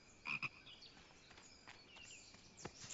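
A cartoon frog croaks in a few short, sharp, high-pitched bursts, then gives fainter scattered clicks and one more croak near the end, all heard without any voices.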